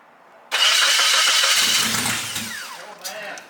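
A 1995 Suzuki Sidekick engine cranks and fires up abruptly, settling into a steady loud run with a lower rumble building, then a slight revving near the end; close by, with brief voices.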